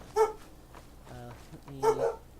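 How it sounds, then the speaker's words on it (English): Real dogs barking nearby while someone plays Fallout 4, two sharp barks about two seconds apart with a softer whine-like tone between them. "now the dogs are making noise"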